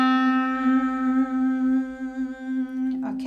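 A sustained, steady drone note held on a reed wind instrument such as a clarinet, loud and close with a rich, buzzy tone, played alone for about three seconds before a brief noisy ending.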